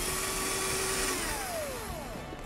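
A small electric drill bores holes into a carved pumpkin, a steady high whine that drops in pitch and fades as the bit bites and slows, heard close and alone.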